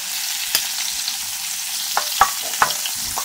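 Pork belly sears in a pan with a steady, soft, close hiss of frying fat, and a few sharp crackles and pops stand out above it.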